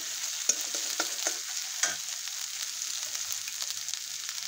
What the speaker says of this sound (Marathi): चांगलं तेल सुटूपर्यंत परतून घ्यायचं.